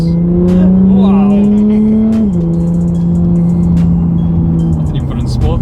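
A straight-piped 300 BHP Audi A5 TDI pulls away hard, its loud, close diesel engine droning and rising in pitch, dipping briefly at a gear change, then pulling on, heard from inside the car.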